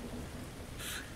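Rain falls in a video game, a dense steady hiss of downpour with a low rumbling undertone, close and continuous, with a brief brighter splash near the end.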